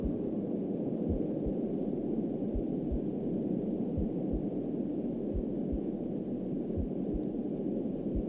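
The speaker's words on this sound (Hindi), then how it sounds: "किसी की दिल की धड़कने की आवाज तो आ रही है" Heartbeat from the Slide in the Woods horror video game, a low muffled thump repeating at an uneven, fairly quick pace beneath a steady hiss of ambient noise, with no talk over it.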